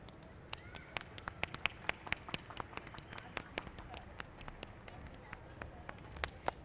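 Sparse, scattered hand claps from an audience at a school annual day function as the chief guest and guest of honor are welcomed; faint, irregular claps with a quiet background.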